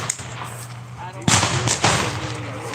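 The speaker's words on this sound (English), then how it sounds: "the gunfire you hear in the background, they're doing reenactments today" Sharp gunfire bursts from a reenactment at the Indiana Military Museum crack in the distance behind a steady background hum, with a couple of louder reports standing out.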